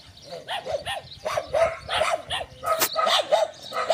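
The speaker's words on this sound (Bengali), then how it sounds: "ওই যে কুকুরগুলো আমাকে দেখে ঘেউ ঘেউ করতেছে" Several dogs at a farmhouse on a date farm bark in quick, repeated bursts, fairly close and loud, with yips mixed between the barks.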